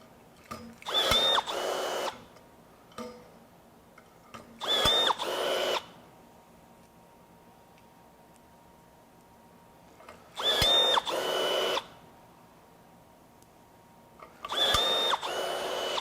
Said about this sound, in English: So you can see a lot faster process with the M18, even shooting those 3/16 inch rivets.